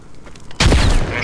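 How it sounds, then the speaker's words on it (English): A grenade explodes in the military shooter game Squad, a single sudden, loud, close blast that erupts midway and rolls out in a broad rumbling tail over low background noise. "Grenade!"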